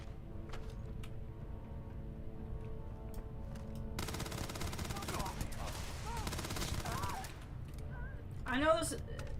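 An automatic gun in the video game Starfield fires a dense, rapid burst in the middle of the stretch, then falls back to quieter background game sounds. A voice is present faintly underneath.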